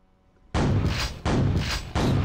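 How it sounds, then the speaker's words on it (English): Three loud, booming super shotgun blasts from Quake, evenly spaced about three-quarters of a second apart, each a heavy close report with a short decaying tail. "take him out close range. With the super shotgun."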